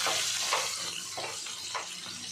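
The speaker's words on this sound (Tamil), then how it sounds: "இதே மாதிரி எல்லா மீனையும் நம்ம பொரிச்சு எடுத்துடலாம்" Fish frying in hot oil, a steady close sizzle with soft crackles rising and falling, no voices.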